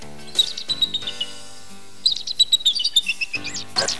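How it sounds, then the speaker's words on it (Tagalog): A magical bird in a children's fantasy show chirps in bright, high tweeting bursts, a first flurry and then a longer run after a pause, with a final quick burst near the end and no talk. "Aba! Gising na ang ibong mahiwaga!"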